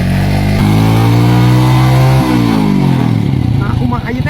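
Motorcycle engine revving loudly and close up, a sustained rising and falling drone with a brief dip midway, then settling lower as people talk over it.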